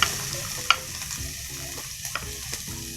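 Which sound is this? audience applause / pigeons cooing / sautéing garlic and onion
sautéing garlic and onion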